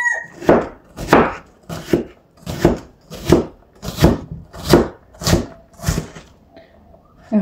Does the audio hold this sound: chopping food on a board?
yes